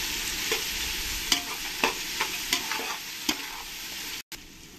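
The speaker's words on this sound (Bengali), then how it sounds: "এবার আমি এর মধ্যে 2 চামচ লবণ দিয়ে দেবো, তাহলে আমার পেঁয়াজটা খুব তাড়াতাড়ি ভাজা হয়ে যাবে" Onions frying with salt in a pan for chicken biryani, a steady close sizzle broken by several sharp scraping stirs and a brief dropout near the end.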